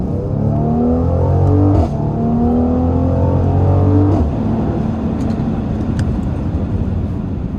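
A Mercedes-AMG GLC43 SUV engine accelerating hard from inside the cabin, revs climbing steadily then dropping at each of two quick gear shifts before building again.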